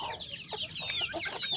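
Chickens cluck in a coop, a flurry of close, overlapping short clucks and squawks running continuously.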